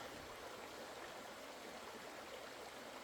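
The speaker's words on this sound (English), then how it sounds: "all I'm hearing is the birds and the running water" Steady rushing of a stream, a continuous broadband wash of running water with no talk, even and unbroken throughout.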